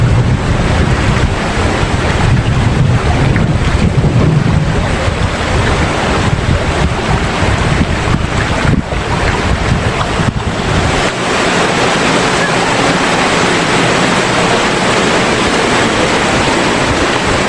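A small waterfall curtain on a river during a river trek to Dao Falls gives a loud, steady rushing roar of falling water with wind buffeting the microphone, and no voices.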